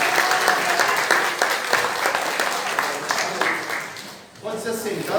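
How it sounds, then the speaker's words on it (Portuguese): A church congregation applauds during a worship service, a steady round of many hands that tapers briefly near the end before a voice speaks over the remaining sound. "Você pode aplaudir o Senhor?"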